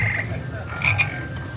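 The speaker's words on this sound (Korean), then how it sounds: "여기 보면 개구리들이 있는데 이 개구리들이 노래한다고 들었어요." Frog figures beside Shrek's house at Universal Studios Orlando croak when stepped on, giving a steady, close, buzzing croak with a sustained electronic tone and no talking.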